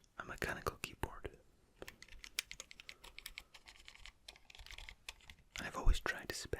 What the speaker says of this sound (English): a mechanical keyboard.